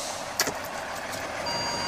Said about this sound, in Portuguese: encostou um caminhão barulhento do meu lado